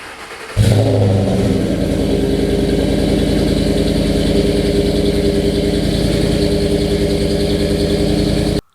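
A 2010 Mustang GT with a Flowmaster exhaust fires up and runs loud and close, with a deep, throaty idle and blips of revving that hold steady for several seconds before cutting off abruptly.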